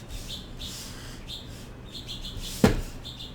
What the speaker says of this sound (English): They're fighting. The birds are fighting.